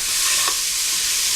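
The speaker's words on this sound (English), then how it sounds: "I'm just going to keep stirring this until the meat is cooked and the onions are tender" Ground meat and onions stirred in a pan without oil while cooking filling for stuffed green peppers, a steady soft sizzle with one brief scrape of the spoon, no talk.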